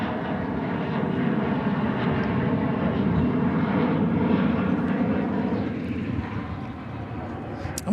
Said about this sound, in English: SkyWest branded CRJ 700 taking off